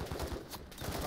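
Rapid gunfire from Call of Duty: Modern Warfare III, a quick burst of several close, punchy shots in about a second, loud and without any talking.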